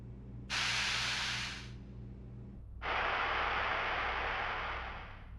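Two hissing bursts from a pesticide spray can in Resident Evil Outbreak, a short blast followed after a pause by a longer sustained spray, loud and close with nothing else over it.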